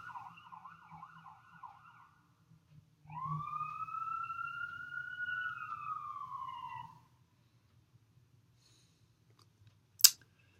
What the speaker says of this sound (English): Sorry about the interruption of the siren there.